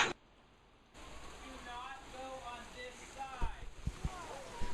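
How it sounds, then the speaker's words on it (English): Steady rain hisses across the whole clip, with scattered louder drips and patters toward the end. "The rain's picking up."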